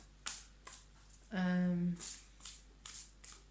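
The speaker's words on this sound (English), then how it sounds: "I'm just going to pull another card." Tarot cards being handled and pulled from the deck, heard as soft close flicks and snaps around a short voiced hum in the middle.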